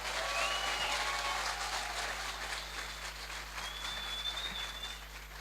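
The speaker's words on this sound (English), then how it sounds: "One more round of applause." An audience at a university graduation ceremony applauds after a performance, a dense, continuous wash of clapping that is strongest at first and eases slightly. A low steady hum runs underneath, and a few faint whistles come through.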